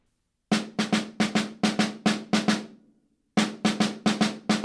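Right-hand-only snare strokes from a drum etude, measure four: crisp, evenly spaced hits in grouped rhythms with ringing decays, a short pause, then another run of strokes, loud and close.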